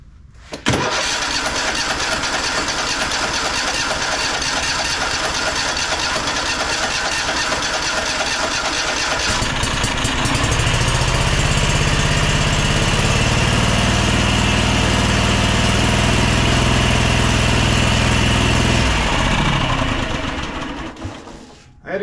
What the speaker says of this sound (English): this side of the engine is running the mower